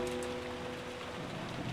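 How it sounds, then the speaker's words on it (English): Heavy rain pours in the video game Umineko When They Cry as a dense, steady roar of falling water, loud and continuous with faint tonal hum underneath. "The rain is too loud."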